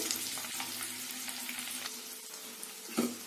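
Eggs for an egg pepper fry sizzle steadily in a pan over medium heat, a close, even crackle with a brief clatter of utensil near the end.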